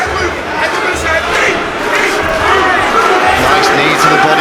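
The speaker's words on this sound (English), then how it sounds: "the crowd picking up on every little thing he does, roaring his name" An arena crowd at a UFC fight roars for Luke Riley, a loud, sustained wash of cheering and shouting that swells and surges throughout while a commentator talks over it.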